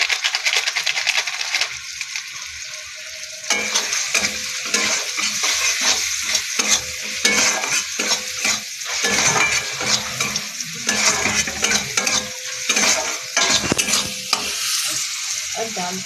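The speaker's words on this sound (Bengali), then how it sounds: "এবার মশলাটা কষিয়ে নেবো" Masala for tadka dal being stir-fried in a pan, loud sizzling spitting oil with rapid spatula scrapes and metallic clatter against the pan, continuous and close, no one speaking.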